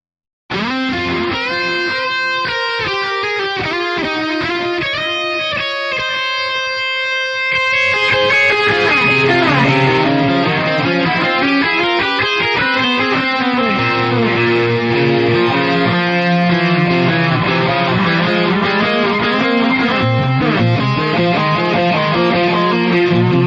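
Musical material runs through the distortion setting of the Brainworx bx_delay2500 delay plugin, a harmonically rich, saturated tone that grows thicker and grittier partway through and plays on continuously.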